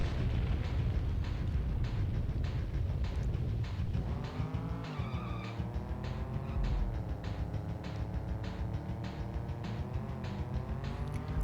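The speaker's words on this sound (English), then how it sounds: "I kinda like the engine sound effects in this one." A race car engine in San Francisco Rush Extreme on the N64 drones loudly and continuously, with rumbling crashes early on, then a rising, shifting engine whine that climbs and levels off through the gears.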